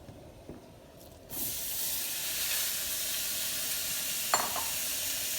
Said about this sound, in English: we want to start by cooking the beef and really browning it